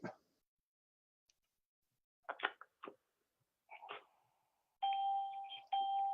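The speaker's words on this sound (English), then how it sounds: "do you remember how to turn off the chimes?" Electronic chimes sound on a conference call: a few scattered tones, then two sustained, loud ringing chime tones near the end, alone in an otherwise quiet line with no talking.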